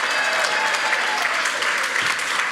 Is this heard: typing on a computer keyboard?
no